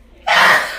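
One close, loud sneeze from a woman: a brief quiet lead-in, then an explosive breathy burst that fades after about half a second.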